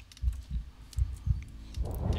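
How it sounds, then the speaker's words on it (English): A heartbeat sound effect in the video game Among the Sleep throbs in soft, low double beats, repeating at a quick, steady pace, alone and fairly faint. "Why is my heart beating really fast?"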